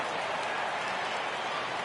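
Home crowd in a stadium roaring and applauding after a home run in MLB The Show baseball game, a dense, steady wash of cheering and clapping with no gaps.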